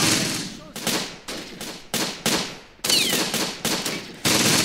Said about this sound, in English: If our MG-42 can start firing here, we can get a lot of kills